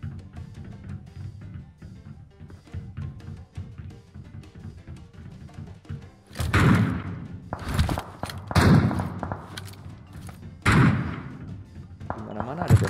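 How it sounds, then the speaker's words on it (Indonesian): Sharp, heavy bursts of gunfire in a battle royale match, several loud shots at irregular intervals over quieter game sounds. "Ini kok ada suara tembakan di sini?"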